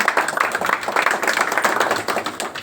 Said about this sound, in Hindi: एक बार जोरदार आप तालियां बजाएं